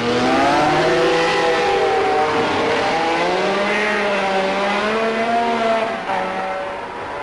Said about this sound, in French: un Jean-Pierre Beltoise irrésistible sur sa BRM numéro 17, qui va doubler ici son compatriote et ami